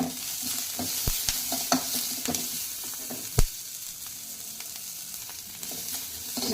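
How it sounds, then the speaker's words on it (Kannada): Onion frying in a pan as part of a sprouted horse gram curry, a steady sizzle broken by several sharp spoon scrapes and knocks against the pan, including one loud clack, without speech. "ಈರುಳ್ಳಿ ಫ್ರೈ ಆಗಿದೆ."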